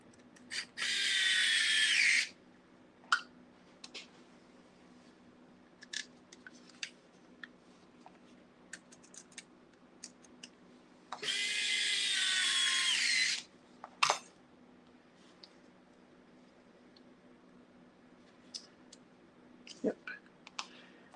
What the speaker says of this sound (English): And then we will have to start screwing these parts together.